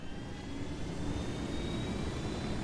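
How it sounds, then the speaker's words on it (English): A helicopter in Ghost Recon Wildlands holds a steady, loud rotor-and-engine roar that fills the whole moment without a break, and no one speaks over it. "We're gonna keep this helicopter with us."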